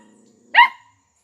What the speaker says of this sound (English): These are little guard dogs